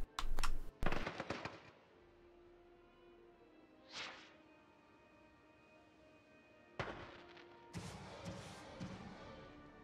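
Fireworks in the theme-park game Planet Coaster: sharp cracking bursts at the start, a rising whistle in the middle, then a cluster of crackling pops near the end, fairly quiet overall with no talk.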